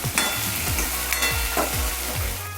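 Tomatoes with salt are stirred in a hot pan, a steady loud sizzle broken by rhythmic scraping sweeps of the spoon, about five strokes in a row.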